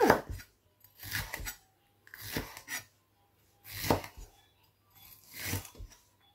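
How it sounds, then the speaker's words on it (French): A kitchen knife chops vegetables for an Asian recipe on a board, in five separate bursts of quick, crisp cuts with short silent pauses between them, close and clear. "je vais finir donc la découpe des légumes"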